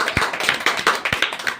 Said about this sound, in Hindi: तब ताली बजाओ।